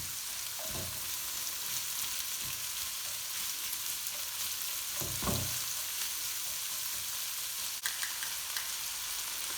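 Onions sizzle and caramelise in a pan over medium-high heat for a tandoori chicken curry, a steady close frying hiss running throughout with a few soft stirring knocks and no talking.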